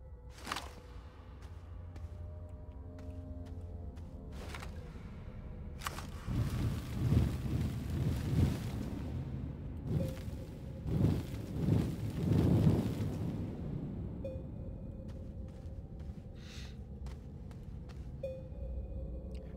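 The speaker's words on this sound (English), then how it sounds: "Oh, we're getting wind down here" In the video game Astroneer, wind gusts and whooshes through an underground cave area. It swells in the middle of the clip, with sharp intermittent clanks and short electronic tones over it and no talking.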